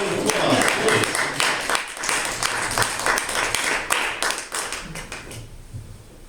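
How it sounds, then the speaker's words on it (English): Audience applause at a book discussion event, with many separate claps sounding close and fairly loud, thinning out toward the end. "Give a round of applause, please."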